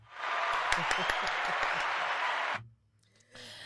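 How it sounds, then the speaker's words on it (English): A few people clap in a radio studio for the Super Eagles, a short run of close hand claps under talking that cuts off abruptly, followed by quiet and then more voices. "let us clap for you"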